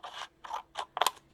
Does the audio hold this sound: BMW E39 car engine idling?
no